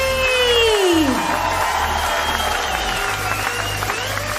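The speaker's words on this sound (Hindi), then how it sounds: "सबके हाथ दोनों ऊपर हो जाए, जोरदार तालियां" A crowd at a large company celebration event applauds loudly for a top company leader, sustained clapping and cheering beneath a swooping whistle-like sound and a loud music bed.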